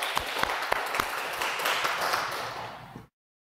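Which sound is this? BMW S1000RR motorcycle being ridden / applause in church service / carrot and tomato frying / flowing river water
applause in church service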